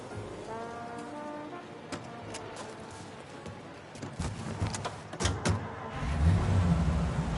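A car from the video game Mafia drives along with a low engine hum, punctuated by sharp clicks and knocks, growing louder and rumbling more heavily toward the end.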